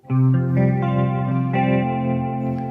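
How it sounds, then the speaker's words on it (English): A guitar played through a Polar Vortex chorus pedal set to its faster, wobbly mode, with a few chords ringing close and loud and a thick, swirling pitch modulation on the sustained notes. "button 2 presents a faster, more wobbly chorus for thick and groovy soundscapes"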